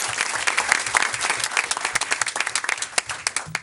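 A room of people at a school board meeting bursts into dense, sustained applause for an honoree, many hands clapping together at close range for several seconds.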